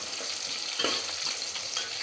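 Green chillies, curry leaves, mustard seeds and onion fry in hot oil as the base for a fish curry, a steady close sizzle with a brief stirring scrape midway.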